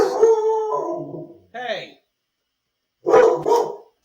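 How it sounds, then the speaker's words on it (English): A dog barks and howls in a couple of loud, close bursts separated by a pause, with a longer drawn-out howl at the start. "Hey, stop barking."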